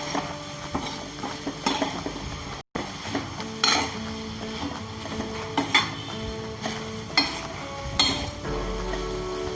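Flattened rice (aval) stirred in a pan, with repeated scraping strokes and spoon clinks against the metal over a soft background sizzle, close and steady throughout with one brief dropout.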